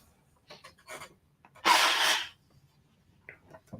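A few quiet sniffs and breaths, then one loud, close allergy sneeze burst, followed by soft rustling.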